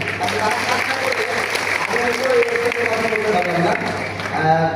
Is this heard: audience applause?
yes